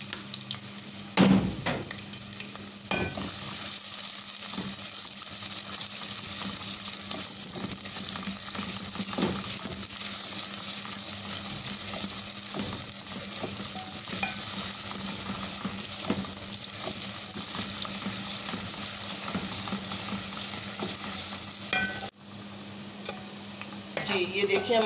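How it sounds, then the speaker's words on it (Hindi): Onions frying in hot oil in a pan for a Lahori murgh cholay, a steady close sizzle with repeated scraping stir strokes throughout, briefly dipping near the end. "प्याज भी डाल देंगे, तो प्याज को हमने गोल्डन करना है।"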